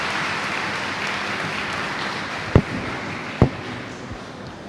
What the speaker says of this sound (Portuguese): Então, uma salva de palmas.